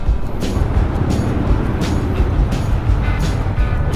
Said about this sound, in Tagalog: Oh, traffic din dito.